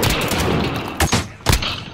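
Gunfire in Call of Duty Modern Warfare Warzone: a steady stream of shots throughout, with two louder, sharper bursts standing out near the end.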